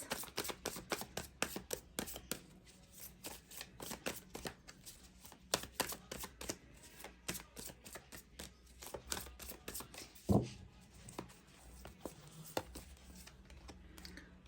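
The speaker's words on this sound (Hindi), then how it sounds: "इस डेक से मैं कुछ कार्ड्स ले रही हूँ" Tarot cards being drawn and handled from a deck: a quiet series of soft, dry card flicks and shuffles, close and alone, with one sharper tap near the end.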